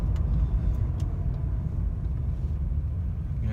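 A Mercedes W124 car with a wiring harness fault behind a rough idle, heard from inside as a steady loud low engine rumble that holds even and close throughout.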